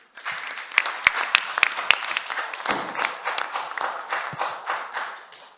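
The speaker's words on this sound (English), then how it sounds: "Please welcome him onto the stage with a huge round of applause." An audience at a conference welcomes a speaker onto the stage with sustained applause, many hands clapping densely and steadily close by for several seconds.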